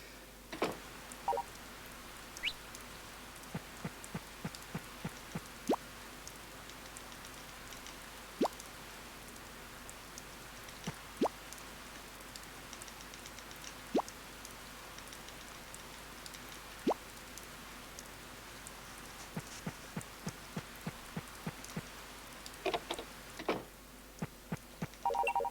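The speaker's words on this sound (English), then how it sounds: "And of course it rains today." Soft, steady rainfall in the farming video game Story of Seasons, a quiet hiss broken by scattered sharp drip-like ticks and small clicks all the way through.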